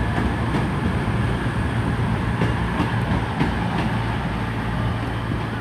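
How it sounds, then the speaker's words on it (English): A Virgin Trains Class 221 diesel unit, 221142, rumbles at Shrewsbury station with a loud steady engine drone and faint rhythmic clicks from the rails, continuous and close, with no talking. "it's 221142, which is the Virgin train service"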